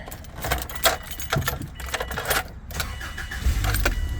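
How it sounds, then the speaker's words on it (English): A 2000-2004 Subaru being started from inside the car during an AC compressor clutch bearing repair, with keys jangling, brief cranking and then a low engine rumble rising near the end, no talking. "turn on the engine."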